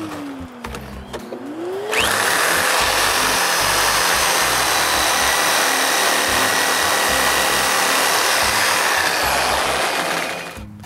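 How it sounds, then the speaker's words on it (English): A reciprocating saw bites into a wooden roof truss timber, starting after a short pause and then running as a loud, steady buzzing cut for about eight seconds before easing off, close up with no talking. "Again, the rest is cut with a reciprocating saw."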